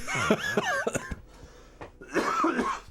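A man coughs hoarsely in a few harsh bursts, with short talk-like sounds before and after, close and fairly loud.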